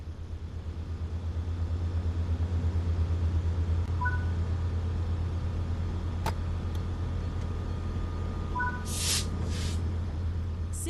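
An F125 Spirit diesel locomotive in Train Sim World 5 idles with a steady low rumble and engine hum, joined by a few brief higher hisses and clicks near the end.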